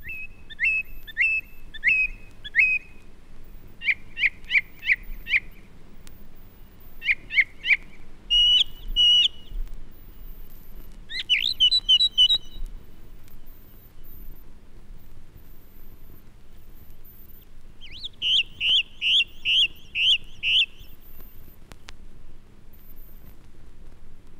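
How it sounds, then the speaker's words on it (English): Song thrush singing in British woodland in winter, with repeated bursts of bright whistled phrases, each note often given two to four times, separated by short pauses over a faint low background hum. "Many song thrushes have left too, but a few can often be heard tuning up with great variety and vivacity."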